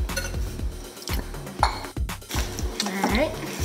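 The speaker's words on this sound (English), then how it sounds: "Alright, stirring it up." A spoon stirs browned, drained Italian sausage into lasagna sauce in a pot, giving close, repeated scraping and clinking against the metal over a steady rhythm, with a voice speaking across it.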